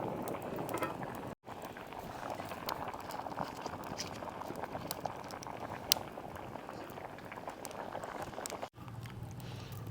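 A pot of cowpea curry boils at a steady, low bubbling simmer, with soft irregular pops and gurgles continuing throughout.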